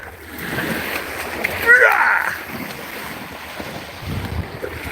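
A dog plays in water and throws up splashes, heard as a continuous rushing wash beneath heavy outdoor wind noise, with a brief voiced, whine-like sound partway through.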